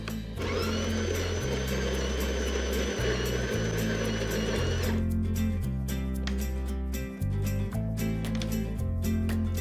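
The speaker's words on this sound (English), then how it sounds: "We will have to make a few more grinds until we get the desired fineness" An electric coffee grinder grinds espresso beans with a loud, steady whirring motor for about five seconds, then cuts off, while rhythmic background music plays throughout.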